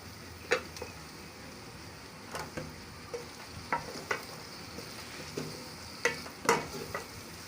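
Chicken is stirred into fried radish in a pan, with a soft continuous sizzle and a series of irregular scraping and clinking strokes from the stirring spoon, close and fairly quiet.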